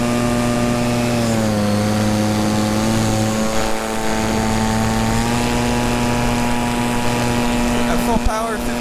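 Electric paramotor motor and propeller running at full power in flight, a loud steady whine with strong tonal harmonics and a brief shift near the end.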